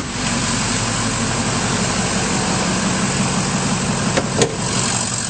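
A 2007 Ford F-250 Super Duty Lariat with a 6.0L diesel V8 and an aftermarket intake idles steadily under the open hood, a loud, even rumble close by with a brief click near the end.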